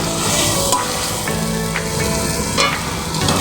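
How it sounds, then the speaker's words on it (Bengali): Mutton fat sizzles and fries steadily in a pan as it renders into oil, a loud, dense crackle with faint stirring clinks and no talking. "দেখো চর্বি থেকে তেল ছেড়েছে"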